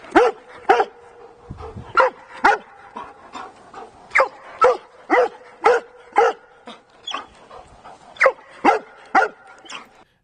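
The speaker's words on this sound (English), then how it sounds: "I could show you another 2 minutes of barking if you really wanted to listen to barking" Repeated loud, close barks from an excited dog waiting on a thrown ball come in quick bursts and pairs, with a brief pause and panting breaths between runs.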